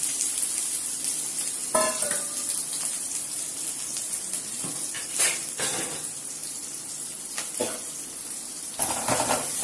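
Steady, loud sizzling of onions frying in oil for fish curry throughout, with occasional scrapes and clinks of a utensil against the pan.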